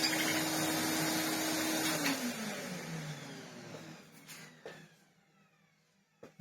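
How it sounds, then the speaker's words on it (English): A household vacuum cleaner whirs at first, its motor pitch sliding downward as it spins down and fades, leaving a quiet room with a few faint knocks near the end. "I bet if I turn the vacuum cleaner on..."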